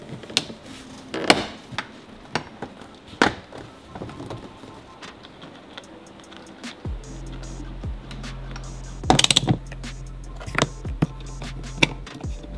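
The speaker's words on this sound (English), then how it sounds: "Now I'm gonna put all of our panels back." Interior trim panels on a Toyota Tacoma pickup are pressed back into place, giving scattered sharp plastic clicks, snaps and knocks close by, with a low steady hum entering partway through.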